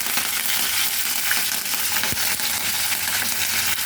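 Onions, green chillies and curry leaves fry in a pan with a constant dense sizzle and crackle, close and fairly loud, with a few small stirring knocks and no talking.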